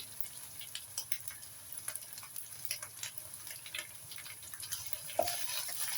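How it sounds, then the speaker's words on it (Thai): Thai red curry paste being stir-fried for a pork belly stir-fry, a soft, quiet sizzle with light scraping and ticking of a spatula in the pan, steady throughout. "ต้องผัดน้ำพริกแกงให้หอมๆก่อนนะคะ"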